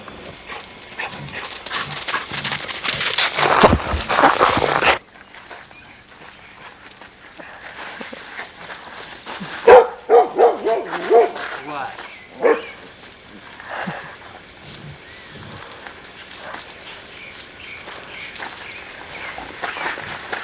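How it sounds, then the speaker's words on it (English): Several frisky dogs play outdoors early in the morning, with scattered short barks and yips, scuffling and footsteps, and a burst of louder noise near the start. "This is Kin playing with the dogs early in the morning."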